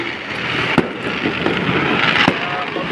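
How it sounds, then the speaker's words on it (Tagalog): Fireworks display at Esplanade in Intramuros: a dense, continuous crackle and rumble of distant bursts, with a few sharper pops standing out against the steady roar. "may nasaksihan tayo dito ng fireworks"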